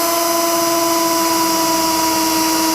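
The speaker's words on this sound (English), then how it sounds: "Looks like it's drilling okay." A power drill bores holes in welded steel that may have been heat-tempered, giving a loud, close, steady high-pitched whine that runs unbroken throughout with no voices.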